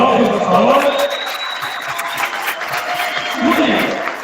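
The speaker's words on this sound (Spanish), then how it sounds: "un aplauso para el profe, por favor" Steady applause from a crowd at a live school event, clapping continuously for a teacher, mixed with a loud, reverberant hall ambience and voices.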